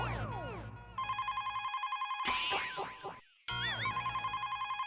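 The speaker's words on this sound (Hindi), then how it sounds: "जरा फोन उठाना।" A telephone rings in a home, sounding as a rapid, repeating electronic trill in close, loud bursts, broken briefly by a short swooping effect before the ringing resumes, with no speech.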